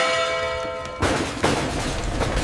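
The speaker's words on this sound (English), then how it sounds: "The bell echoes," A church-style bell tolls in a haunted school at midnight, with a tonal ringing that gives way to heavy, booming strikes whose echoes carry on, loud and reverberant, with no voices.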